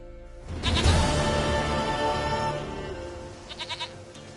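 A goat in The Witcher 3 video game, set in Velen, gives one loud, drawn-out bleat close by, followed by a few short, quieter bleats.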